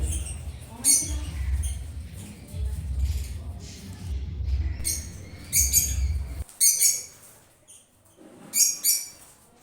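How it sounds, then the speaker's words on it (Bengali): Pet lovebirds kept in pots with their chicks chirp in sharp, high bursts, loudest in the later part, alongside low background rumble and some speech early on. "দেখুন ওর কাছে কত লাভ বার্ড আছে, পাখি পুষতে খুব ভালোবাসে"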